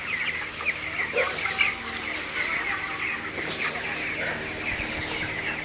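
Chickens cluck and murmur inside a poultry farm shed during hot weather, several birds calling in short overlapping bursts close by over a steady fan-like background hum.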